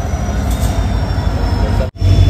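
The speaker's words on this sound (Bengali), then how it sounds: "এবার ছাড়বে আমাদের ট্রেন" 13151 Jammu Tawi Express pulling out of Darshan Nagar station, a loud, close, steady rumble of wheels on rails with a faint squeal and one brief dropout.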